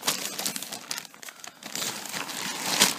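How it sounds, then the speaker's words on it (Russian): A plastic bag crackling and crinkling as a leather jacket from China is unpacked, a close, continuous rustle with irregular sharp crunches throughout, and no talk. "Пакет весь трещит."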